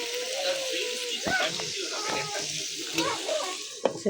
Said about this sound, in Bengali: আলু ভাজি বসায় দিছি